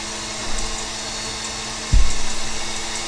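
An electric mixer whirs steadily while beating chocolate pie filling, with a louder surge partway through as the motor is pushed harder, then settles into a pulsing hum.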